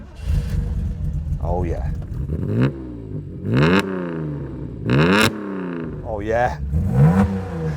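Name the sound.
Toyota 2000GT straight-six engine revving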